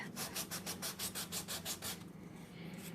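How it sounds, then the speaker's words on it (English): Fine sandpaper laid flat and rubbed along the edge of a small wooden dollhouse piece, a quick run of about a dozen even back-and-forth scratchy strokes, close and clear, then a brief quieter scrape at the end. "you can take a piece of sandpaper and then you can just kind of lay it flat"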